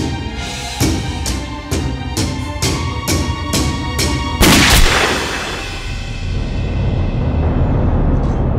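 A rapid run of about eight sharp gunshots in close succession, followed by a heavier, louder blast that trails off into a lingering rumble and noise, with no talking.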